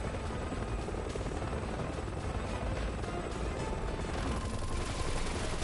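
Helicopter rotor roar with gunfire in the Resident Evil 6 video game, a dense, loud, continuous wash of blades and shots with no talk.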